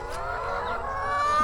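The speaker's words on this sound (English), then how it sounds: "these chickens" Chickens on a farm in rural Thailand, a dense, continuous clucking chorus, fairly close and steady with no talking.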